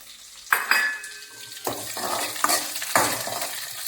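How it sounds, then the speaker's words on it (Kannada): Curry leaves, mustard seeds and green chili crackle in hot oil for a pumpkin palya, with sharp sizzling bursts and several metallic clinks of a spoon stirring against the pan. "ಸಾಸಿವೆ ಹಾಕೊಂಡ ತಕ್ಷಣ ಗ್ರೀನ್ ಚಿಲ್ಲಿ ಹಾಕೊಂಡ್ಮೇಲೆ ಕರ್ಬೇವಿನ ಸೊಪ್ಪು ಹಾಕೊತಾ ಇದ್ದೀನಿ."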